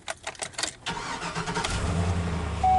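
A pickup truck with a freshly installed replacement motor and new battery cranks, then catches and settles into a steady running idle, loud and close, with no talking.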